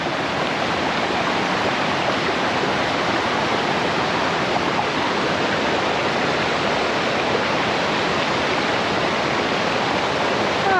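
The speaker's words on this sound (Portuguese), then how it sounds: "uma quedinha d'água" A small waterfall pours over rocks, a steady, close rushing wash of water that holds evenly throughout with no voices.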